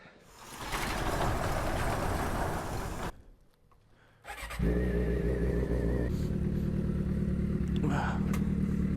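Suzuki GSX-R motorcycle on a first ride: heavy wind roar at first, a brief quieter dip, then a loud, steady engine drone with buffeting wind, recorded close on the bike.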